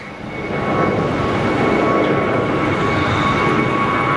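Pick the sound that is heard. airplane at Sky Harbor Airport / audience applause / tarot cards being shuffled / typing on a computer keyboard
airplane at Sky Harbor Airport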